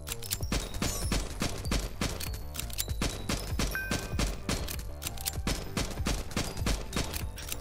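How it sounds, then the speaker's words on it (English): Exploding bullets fire in rapid, steady bursts in the Nimrod Guncraft Survivor video game, a dense, loud stream of close shots that continues without break and with no speech. "I think at least I got lucky with these exploding bullets."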